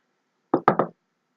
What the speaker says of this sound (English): they heard a knock on the door